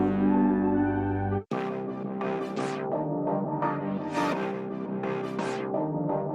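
Sustained tones from the Fraction software synthesizer with a rich harmonic drone that cuts off abruptly, then a new patch with swelling, filtered sweeps over a held chord.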